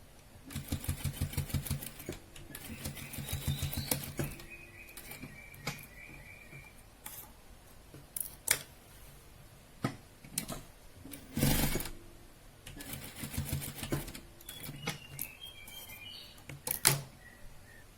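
A sewing machine stitches fabric ties onto a baby dress in several short bursts of rapid mechanical whirring and clatter, separated by pauses and small handling clicks.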